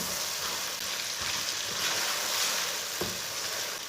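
Tomatoes and green chillies sizzle and fry steadily in a pan for a chicken curry, a continuous broadband hiss with no talking.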